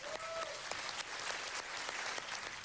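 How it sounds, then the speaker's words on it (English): Awards ceremony audience applauds a foster mum being honoured at a children's champions event, a dense, even patter of clapping from a sizeable crowd heard at a distance with no talk. "would you give a round of applause to Supermum Judith Fleming"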